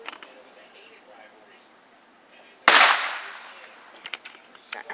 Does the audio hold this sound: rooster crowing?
no